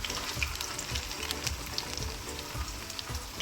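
Aloo tikki fry in oil in a pan, giving a steady close sizzle with a few soft taps as the patties are lifted and turned, and no speech.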